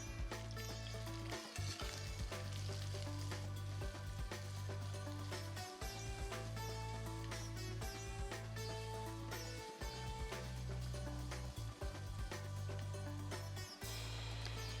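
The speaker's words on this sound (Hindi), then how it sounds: "Let it splutter and then just mix it all up together." Cumin seeds splutter in a pan of hot fresh oil while cooking an Indian-style fish pulao, a steady soft crackle and sizzle held under loud background music throughout.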